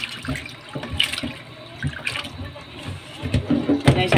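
Pork ribs washed under running tap water in a kitchen sink, close splashing and trickling in uneven bursts, with a few short sounds of handling.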